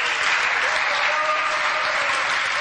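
Dense, steady applause fills the room from parliamentary benches of the FDF and MR members, an even wash of many hands clapping without pause, loud and close throughout.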